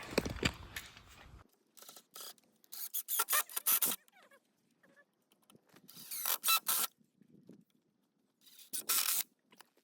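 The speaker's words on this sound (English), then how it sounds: "So now we're gonna screw the brackets into the blocks" A screw is driven into a wooden 6x6 block to fix a bracket for a cabin floor: short bursts of drill whir and grinding, separated by quiet pauses, close and moderately loud.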